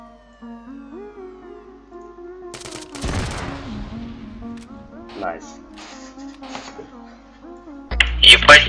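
Bursts of automatic gunfire in a shooting video game, with a dense cluster of shots midway and a louder burst at the end, heard under continuous talking from players.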